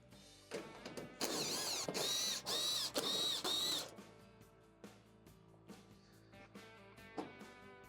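A power screwdriver backing screws out of the rear brackets of a Maytag dryer, several short close whirring bursts with one long run, separated by quiet handling clicks.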